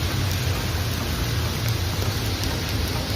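Steady rain falls in Korea, a dense, even hiss of drops with a low rumble beneath, continuous and fairly loud throughout with no voices.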